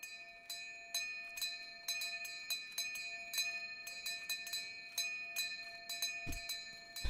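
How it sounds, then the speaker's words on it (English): A bell rings over and over in a game scene, clear repeated strikes with bright ringing overtones, roughly one or two per second, fairly close and steady throughout. "Oh, the bell."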